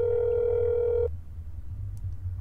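A telephone dial tone in the video game That's Not My Neighbor sounds as a steady, clear tone for about a second, then cuts off abruptly, leaving low background hum.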